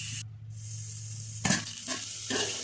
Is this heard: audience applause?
no